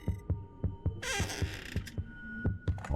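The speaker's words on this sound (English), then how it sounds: "Is that a heartbeat I'm listening to?" A steady heartbeat in a horror video game set in an orphanage, soft low thumps in a regular rhythm of roughly two beats a second under a low hum and a brief creaking, scraping burst.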